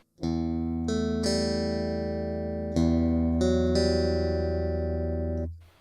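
Clean electric guitar notes and chords played through a Mooer GE200 amp modeler with all effects off, several plucked changes ringing with sustain, a warm woody tone, close and clear.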